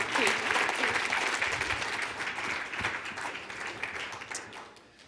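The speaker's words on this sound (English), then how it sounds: "A round of applause." Audience applauding a finalist at the AAU Sullivan Award ceremony, a dense steady wash of clapping from a crowd that holds strong for several seconds and then thins out toward the end.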